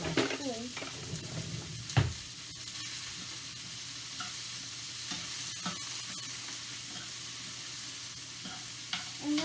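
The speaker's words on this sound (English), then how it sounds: "And let that just saute down a little bit" Onions sautéing in a pan and stirred with a spoon: a steady, continuous sizzle with a few scraping clinks of the spoon near the start, moderately loud throughout, no talking.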